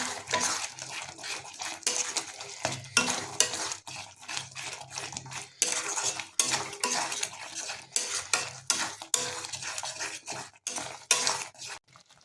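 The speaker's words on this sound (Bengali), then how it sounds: "এখন এটাকে আমরা মিনিট 3 ধরে লো ফ্লেমে এভাবে কষিয়ে নেব।" Ground spices, coriander powder among them, are sautéed in a wok on low flame, with a metal spatula scraping and clinking against the pan in repeated close strokes and no voices.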